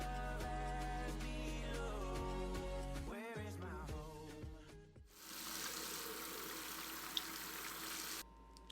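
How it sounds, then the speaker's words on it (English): Garden plants are watered with a steady hissing spray of water, which starts abruptly partway through after a stretch of music, runs for a few seconds, then cuts off. "Now we just gotta water the plants."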